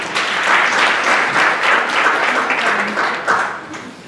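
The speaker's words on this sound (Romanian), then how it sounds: "Mulțumesc pentru aplauze." Audience applause at a Mercury Research presentation: loud, full clapping from a crowd that swells and dips in gentle waves, then begins to thin toward the end.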